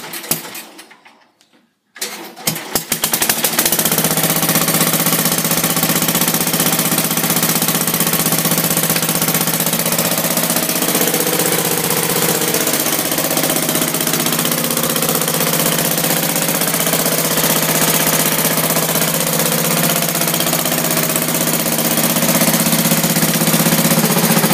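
A 1972 Sears rotary tiller engine starts up after a brief quiet moment, then runs loud and steady with a close, even mechanical chug throughout.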